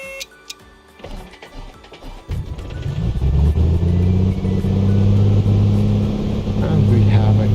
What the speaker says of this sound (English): let's go ahead and give it another go